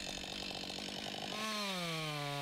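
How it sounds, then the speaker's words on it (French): A chainsaw runs loud and steady, making a horizontal felling cut that meets the first cut to form a notch in a tree trunk; the engine pitch drops and settles as the chain bites into the wood. "Le second trait de scie est horizontal et rejoint parfaitement le premier."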